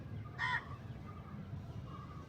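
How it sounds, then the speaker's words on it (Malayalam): A crow lets out one brief harsh caw near the start, moderately close, followed by quiet background with only faint traces afterward. "കാക്കയുടെ കാക്കയുടെ ഇതാ കാക്ക."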